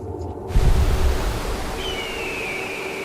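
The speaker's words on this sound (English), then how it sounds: "This is the Colorado River." The Colorado River flows with a broad, steady rushing roar, a continuous wash of water noise with a brief heavier surge near the start.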